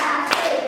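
Children clap together on a counted beat during a classroom clapping game, one sharp group clap landing briefly over a steady background murmur of the room.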